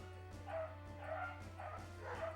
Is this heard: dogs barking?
yes